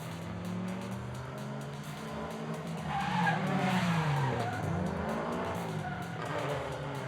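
Drift cars at a street-league drift event slide through a corner, their tires squealing and skidding loudly with engines roaring steadily, the noise swelling midway and holding to the end.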